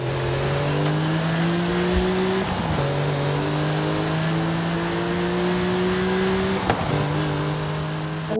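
A car engine in Forza Horizon 5 drones loud and steady through the Eliminator arena, rising in pitch through each gear before dropping at two quick shifts, with no talking over it.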